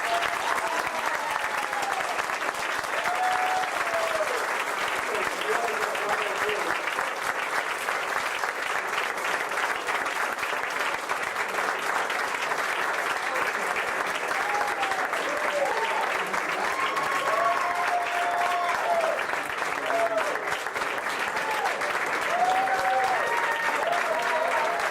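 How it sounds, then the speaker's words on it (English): Steady, sustained audience applause from a crowd at a community event with puppets, pies and prizes, continuous clapping at even loudness throughout with scattered cheers and chatter mixed in. "let's give a round of applause to all these groups."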